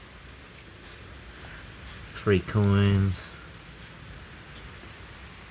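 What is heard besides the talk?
rain falling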